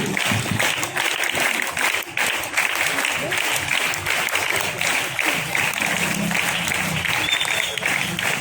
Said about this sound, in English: Start clapping.